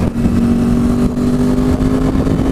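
Yamaha R1 motorcycle on a highway, a loud steady engine drone with a strong sustained tone, close and continuous under wind noise, without clear separate gear changes.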